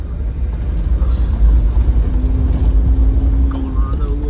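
A first-generation Mitsubishi Montero on new Bilstein suspension drives along with a steady low engine and road rumble, close inside the cabin, with a person talking over the drive noise.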